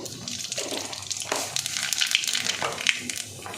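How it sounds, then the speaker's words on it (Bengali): Dried red chillies and nigella seeds sizzle in hot oil in a pan after aubergine has been fried, a steady crackling hiss with brief surges of spattering, close and moderately loud, no talk. "এবার তেলের মধ্যে দিয়ে দেবো দুটো শুকনো লঙ্কা একটু কালো জিরে"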